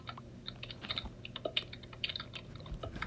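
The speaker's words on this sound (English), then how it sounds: "Intense gamer clickety clack" Fast clicking and typing on a gaming keyboard, close and busy with irregular bursts of key clacks and clicks and no talking.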